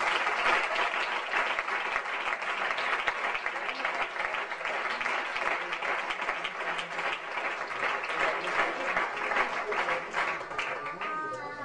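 A church congregation claps steadily for God after a sermon line, a sustained, dense wash of applause lasting several seconds with faint voices mixed underneath.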